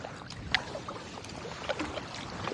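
Kayak paddling on calming water, with soft splashes and drips from the paddle over a gentle wash of water, fairly close and quiet, no voices.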